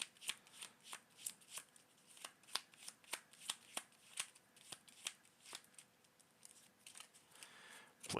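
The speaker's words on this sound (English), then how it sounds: "Shuffle our deck." A deck of Marvel Champions cards for a Spider-Man game is shuffled close up. It makes a rapid string of crisp riffling snaps in an uneven rhythm, with no talk.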